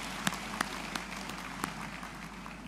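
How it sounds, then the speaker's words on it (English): Sparse, moderate applause at Northern Caribbean University's first commencement, with a few sharp, distinct claps standing out against a steady background of softer clapping and room noise. "I invite a round of applause for this historic class"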